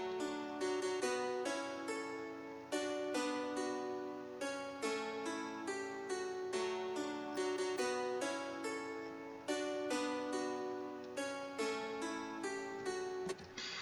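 Two layered guitar parts play a wavy, bouncy melody in FL Studio, built from plucked notes in quick rhythmic phrases with bright harmonics. It sounds close and fairly quiet, with no voices.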